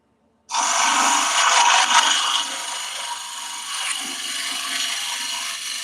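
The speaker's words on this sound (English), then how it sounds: "I'm sort of tilting that. It gives you a shear scraping angle, and that gives you a nice smooth finish on the inside" A wood turning tool held at a tilted shear-scraping angle against the inside of a bowl on the lathe gives a steady, close, bright scraping hiss, loudest at first and then settling into a continuous rasp, with no talking.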